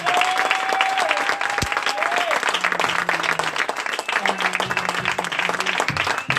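A church congregation applauding, steady dense clapping from a crowd that keeps up throughout, with a few voices and faint tones under it.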